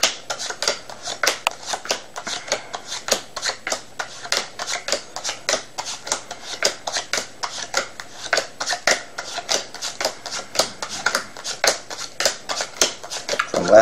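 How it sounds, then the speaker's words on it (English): Playing cards being dealt into three piles, a steady run of quick, crisp flicks and light slaps close by, repeating in an even rhythm throughout with no talk. "now let's start by dealing the cards into three piles"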